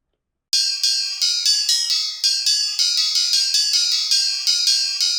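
A bell sample run through a chorus effect rings out in a rapid series of bright, shimmering repeated strikes, each tone overlapping the last with a wavering, doubled sustain, loud and alone.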